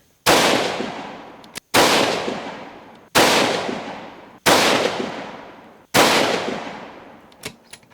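Five sharp, loud rifle shots from a 6mm Creedmoor Howa 1500 firing VMAX bullets at a range, evenly spaced about a second and a half apart, each cracking and then trailing off in a long echoing decay.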